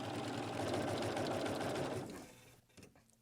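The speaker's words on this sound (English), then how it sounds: "Well, I'm going to start stitching." A sewing machine runs in a steady continuous whir while chain-piecing quilt fabric pieces, then slows and stops near the end, leaving a few faint clicks.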